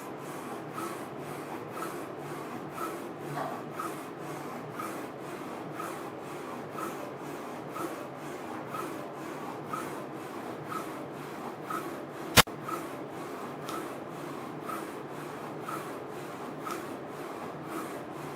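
A Focus Alpha Jet UV rotary printer prints onto a bottle with a steady mechanical whirring and rubbing hum, regular soft pulses throughout and one sharp click near the end, no voices.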